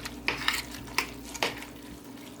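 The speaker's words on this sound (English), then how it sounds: "And then stir it all up." Stuffing mixture with margarine and mushrooms is stirred, giving a few soft scrapes and clinks of a utensil against the bowl at an uneven rhythm, close and fairly quiet.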